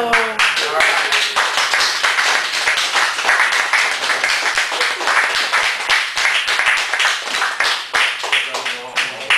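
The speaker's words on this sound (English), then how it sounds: "I don't think that was enough applause" Sustained, dense applause and clapping from a comedy club audience in Chicago, loud and continuous throughout with no break.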